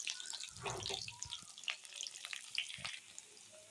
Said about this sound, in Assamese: এতিয়া এই গৰম তেলটোতে মই পিঁয়াজখিনি দি ল'লোঁ।